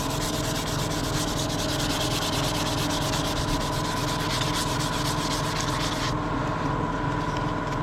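P600 sandpaper rubbed over an engine sump mating surface on a 750bhp Cupra rebuild, a loud, steady, rapid rhythmic scrubbing heard close up throughout.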